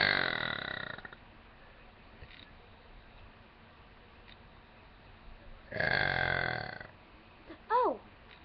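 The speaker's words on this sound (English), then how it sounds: "here's my burp" A person burps loudly twice, one long drawn-out belch at the start and another a few seconds later, with a brief squeaky noise after, close and clear against quiet.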